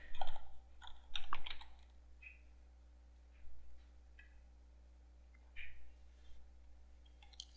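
Keys clack in short, quiet bursts as a password is typed on a computer keyboard in a hushed room, with scattered clicks and pauses between the runs.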